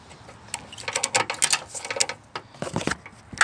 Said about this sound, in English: Just start tightening your ratchet strap until you can push that bolt out.